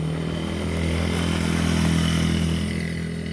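A mini bike motorcycle engine runs steadily close by on its first ride, with a loud, constant buzzing drone that rises a little in the middle and carries no talk.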